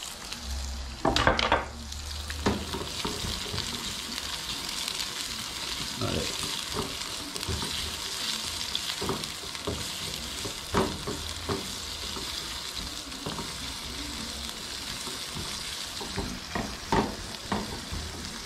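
Dendê palm oil frying and sizzling in a pan for moqueca while being stirred, a steady close sizzle with a louder clatter near the start and scattered utensil scrapes and taps.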